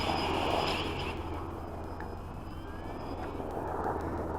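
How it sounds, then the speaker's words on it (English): A WLToys V303 Seeker quadcopter's motors whir faintly and steadily as it comes in to land on a slant, a soft continuous hum with slight pitch shifts and a brief louder stretch at the start. "we'll go ahead and land the quadcopter"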